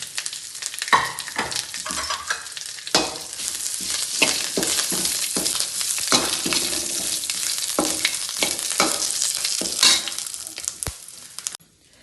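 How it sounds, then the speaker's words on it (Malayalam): Curry leaves and mustard seeds crackle and sputter in hot oil for a lemon pickle, a dense, close, bright sizzle with rapid popping bursts and stirring, cutting off at the end. "അതിലേക്ക് തന്നെ ഞാൻ കറിവേപ്പ് ഇടുന്നു. നന്നായി പൊരിഞ്ഞിട്ട്"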